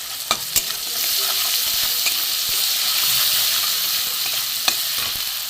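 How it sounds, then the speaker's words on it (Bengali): Chilli, cumin, coriander and garam masala powders being stir-fried for a cauliflower semolina dish produce a continuous close sizzle, punctuated by sharp scraping clicks of a spatula against the pan. "লঙ্কার গুঁড়ো জিরে ধনে গুঁড়ো গরম মশলার গুঁড়ো দিয়ে দিয়েছি দিয়ে আমি একটুখানি কষিয়ে নেব"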